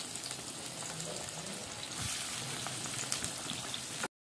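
Onions and tomatoes frying in oil in a pan give a steady, dense sizzle and crackle, close and fairly loud, running unbroken for about four seconds before cutting off abruptly.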